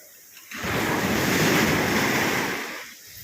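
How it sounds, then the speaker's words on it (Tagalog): A single loud wave surges and crashes close by, a broad rushing roar that swells and then fades away. "ang lakas ng alon"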